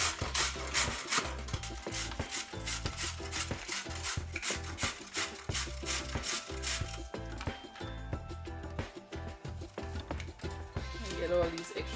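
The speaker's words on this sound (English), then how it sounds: "We are grating 3 medium carrots on the big side of our grater." Three medium carrots grated on the coarse side of a box grater in a home kitchen, a steady run of rhythmic rasping strokes heard up close, continuing for the whole stretch with a brief pause partway through.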